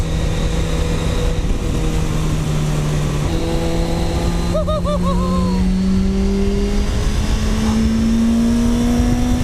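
A car powered by a Suzuki GSXR1000 superbike engine screams at high RPM, its loud whining note climbing through several gear changes with brief dips between shifts, heard close from inside the car.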